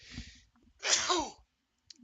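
A single loud, close human sneeze, a brief breathy intake and then a sharp explosive burst, in a quiet room after being held back for a long time.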